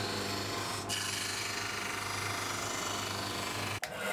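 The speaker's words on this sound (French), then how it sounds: "J'arrase les côtés en bois debout, ce qui me permet de mettre les morceaux qui feront le liseré." End-grain wood is flush-trimmed by hand with a steady, continuous rasping scrape, close and even, broken by a couple of short sharp knocks or pauses in the stroke.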